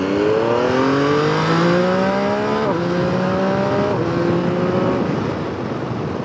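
A 2021 MV Agusta Turismo Veloce RC SCS adventure motorcycle accelerates hard with its quick shifter, engine whine rising steadily then dropping abruptly at each clean upshift, about three quick gear changes, loud and close over steady wind roar.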